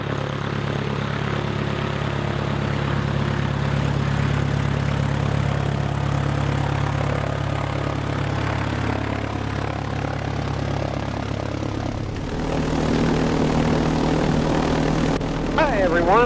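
A Zenith STOL CH 750 Super Duty light aircraft drones steadily with a propeller engine hum inside the cabin, loud and continuous, shifting in tone partway through as someone talks over it.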